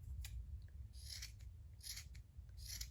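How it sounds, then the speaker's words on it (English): Scissors trim the bottom of a handmade tassel in a series of quiet, crisp snips spaced about a second apart over a low background hum. "and then I just trim off the bottom."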